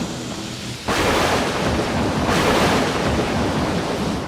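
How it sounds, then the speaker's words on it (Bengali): A heavy downpour sets in under dark clouds in a spooky horror cartoon: a loud, dense, steady roaring wash of rain that starts abruptly after a quieter moment and continues without letup. "আর তার সঙ্গে তুমুল বৃষ্টি"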